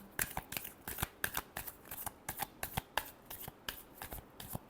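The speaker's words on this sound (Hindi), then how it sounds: "Last shuffle." Tarot cards are shuffled close by in quick, crisp riffles and soft snapping flutters that repeat in a brisk, uneven rhythm at low volume.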